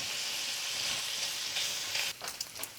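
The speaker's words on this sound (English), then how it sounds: "I like my bacon crispy, so I'm trying to get it" Bacon crackles in a pan for carbonara, a dense steady hiss up close, ending with a few clinks and scrapes as it is moved around.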